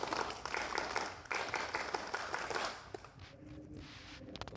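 Indonesian Scouts at a one-day camp perform the Tepuk Pramuka, a rhythmic group clap with bursts of patterned clapping that thin out and quiet down toward the end.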